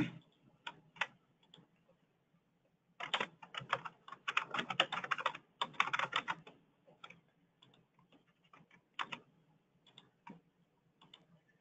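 Bursts of close computer keyboard typing and mouse clicks, sparse taps at first, then a dense flurry of keystrokes, followed by scattered single clicks in a quiet room.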